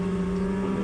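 Snowmobile engine bogging from a stuck exhaust power valve, a steady, loud, droning hum with a strong low tone, held for under a second without revving up.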